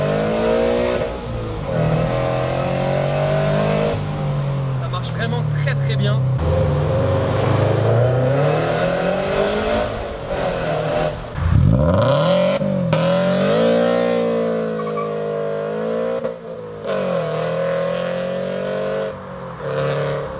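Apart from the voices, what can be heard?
car engine accelerating and revving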